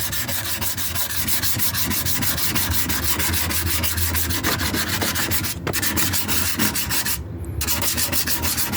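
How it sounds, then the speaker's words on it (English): Continuous rapid scratchy rubbing of coarse 40-grit sandpaper against the rusty metal fender of a 2004 Kia Spectra, a steady back-and-forth rasp close to the microphone with a couple of brief pauses. "So I'll do a little bit of sanding."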